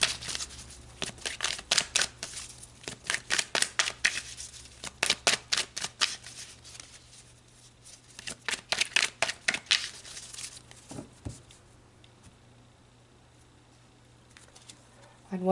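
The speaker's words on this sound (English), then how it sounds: "let's pull some more cards" Tarot cards shuffled by hand for a reading: repeated quick riffling bursts in a steady rhythm, close and fairly loud, with brief pauses between rounds.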